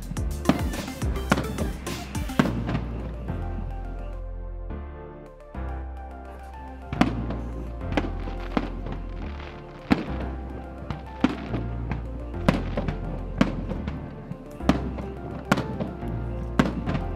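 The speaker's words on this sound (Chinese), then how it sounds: "那我们今天呢，就是在湖边 欣赏这个烟火。" Fireworks burst over Lake Toya, launched from boats on the water, in a rapid, loud barrage of booming thuds and crackling reports that rolls on continuously with a brief lull before the volleys build again.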